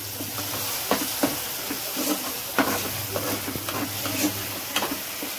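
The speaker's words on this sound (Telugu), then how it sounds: "టమాటా, పచ్చిమిర్చి, కరివేపాకు, అల్లం నూనె తేలేంత వరకు వేయించుకున్నాం కదండి." Tomato, green chili, curry leaves and ginger fry in oil in a pan, a steady close sizzle broken by repeated scraping stirs of a spoon, with no talk.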